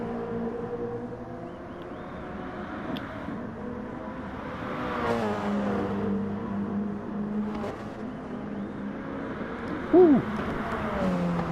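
Race cars in the Gran Turismo game during a Super GT series race at the Sardegna Grand Prix circuit, engines droning steadily and rising and falling as cars pass by, with one brief whoop from a voice near the end.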